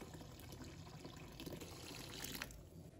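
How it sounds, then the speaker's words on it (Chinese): Clean water poured from above over raw peanuts in a kitchen bowl, a steady rushing splash lasting a few seconds at close range. "倒入清水没过花生"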